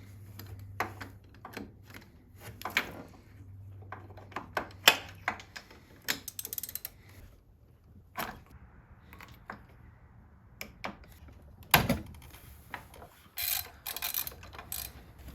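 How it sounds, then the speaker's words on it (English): A finicky torque wrench tightens the spark plugs on a misfiring 2005 Yamaha R6 motorcycle. Faint, close ratcheting ticks and scattered mechanical clicks come in sparse, irregular bursts against a quiet background. "This torque wrench is a little finicky"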